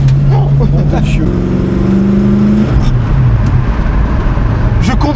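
A 1968 Ford Mustang Fastback engine revs and accelerates loudly from inside the car, its pitch climbing through the gears and then settling, steady and close with no talking.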